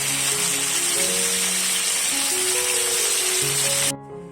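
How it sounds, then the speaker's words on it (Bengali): Hilsa fish frying in hot mustard oil in a kadai gives a steady, loud, close sizzle. A faint tonal hum sits under it, and the sizzle cuts off sharply near the end. "তেলটা গরম হয়ে গেলে এবার আমি মাছগুলোকে তেলের মধ্যে ঢেলে দেব ভাজার জন্য।"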